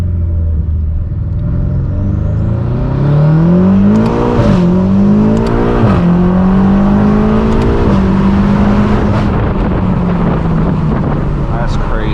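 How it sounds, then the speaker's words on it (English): BMW M8 Competition, tuned to roughly 800 hp, revving hard through a first-gear pull on an empty street, its exhaust note climbing steadily and loud, with brief breaks at the shift points. Wind buffets the microphone and voices talk over it. "Do a nice little first gear pull."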